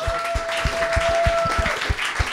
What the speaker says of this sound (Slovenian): Tako da en aplavz za kolege iz Primorskega tehnološkega parka